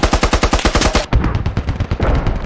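Rapid bursts of automatic gunfire aimed at a BMP armored vehicle in the military shooter game Squad, loud and close, with rhythmic shots in two quick strings and no talking.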